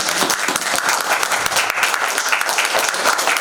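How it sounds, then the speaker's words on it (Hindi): Loud, dense audience applause in a hall welcoming a stage play, a steady wash of many clapping hands that runs unbroken from start to finish. "जोरदार तालियों के साथ स्वागत कीजिए।"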